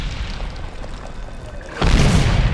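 A tank cannon in the Medal of Honor war game fires a shell, a sudden loud broadband boom erupting near the end over steady battle rumble.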